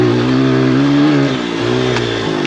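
An enduro dirt bike engine revs steadily and loudly up close on a hard off-road trail, its pitch dipping slightly midway and climbing again, with no talking.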